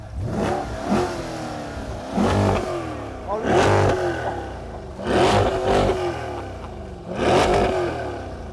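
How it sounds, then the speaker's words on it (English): A Corvette C8 cross-plane-crank V8 engine revs repeatedly, five or six sharp throttle blips rising and falling in a steady rhythm, loud and close with a deep, burbling exhaust note. "here's a comparison between a V8 in a Corvette C8, which uses a cross-plane crank"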